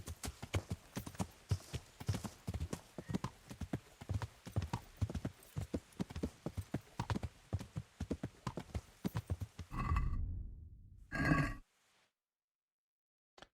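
Horse hooves clip-clop in a quick, regular trot for about ten seconds in the video game Kingdom Come: Deliverance, then a snort and a brief whinny before silence.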